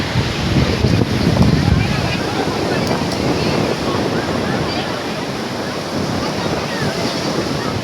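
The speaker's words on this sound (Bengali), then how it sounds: "শুনতে পাচ্ছেন বন্ধুরা সমুদ্রের গর্জন।" Sea waves roar on sandy Mandarmani beach, a loud, continuous rumbling surge mixed with gusty wind buffeting the microphone.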